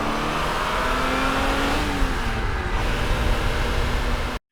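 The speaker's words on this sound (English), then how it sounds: "It's some kind of Ferrari, I think a Testarossa," A Ferrari Testarossa engine revs hard and steady, a loud continuous roar with rising tone throughout, some wind noise mixed in, then cuts off abruptly near the end.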